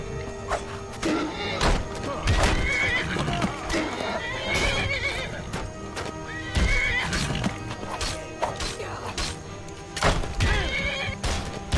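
In Skyrim, horses whinny repeatedly over a steady clatter of galloping hooves, with occasional thuds and crashes mixed into a busy, continuous scene.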